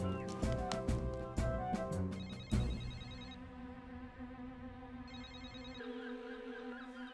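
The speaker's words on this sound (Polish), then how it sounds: "Czy wszyscy dziś postanowili nie odbierać telefonów?" A cartoon telephone rings on and on with nobody picking up, a repeated electronic bell pattern heard over busy background music and effects.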